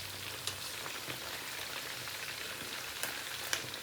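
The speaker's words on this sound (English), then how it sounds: "The reason for frying this is because you don't want the chicken to break away in the sauce." Chicken pieces fry in a hot pan for a chicken roast bhuna, giving a steady, dense crackling sizzle with occasional louder pops, close and continuous with no talking.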